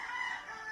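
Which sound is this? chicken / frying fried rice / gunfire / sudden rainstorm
chicken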